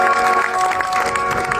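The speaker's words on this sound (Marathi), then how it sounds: "टाळ्या वाजवा." Audience at a kirtan applauds steadily, a dense continuous clapping wash that fills the whole moment at close, loud level.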